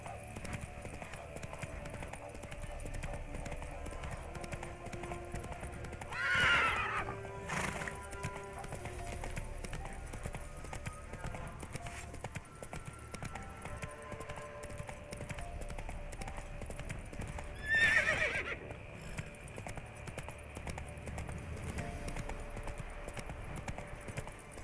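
Horse neighing and hooves clip-clopping in The Witcher III video game, steady galloping hoofbeats throughout with two distinct whinnies rising above, moderately quiet.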